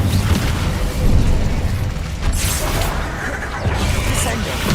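Spell casting and explosive bursts in Hogwarts Legacy: dense, continuous booms and crackling impacts over a low rumble, with a voice calling spell names throughout.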